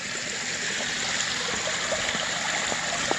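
Water flows faintly in a backyard garden waterfall with a possible leak, a steady soft rushing trickle with small occasional drips, no voices.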